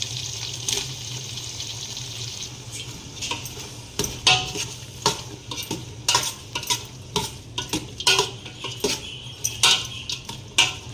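Onions stirred into ginger garlic paste in a pan while cooking tempeh white biryani, with steady frying sizzle and frequent spoon scrapes and clinks in an irregular rhythm, close and moderately loud, no talking.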